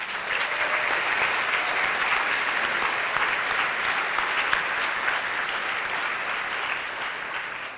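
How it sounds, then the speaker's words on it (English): An audience at a school's closing ceremony claps in a long, even round of applause, steady and sustained from start to finish, the crowd's clapping moderately distant and filling the hall before fading slightly at the end. "so just a round of applause for all those people"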